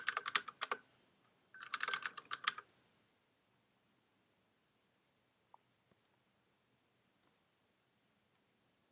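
Fingers type a password on a computer keyboard: two quick flurries of clattering key presses up front, then a handful of isolated single clicks spaced out over a quiet background.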